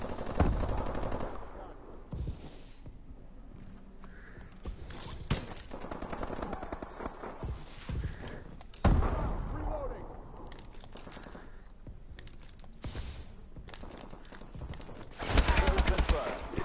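Bursts of automatic gunfire from the video game Advanced Warfare, intermittent and fairly quiet, with a louder volley at the end and a voice talking between shots.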